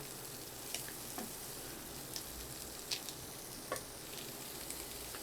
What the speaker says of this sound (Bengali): আঁচটা বাড়িয়ে এটা একটু ভেজে নেবেন ভালো করে।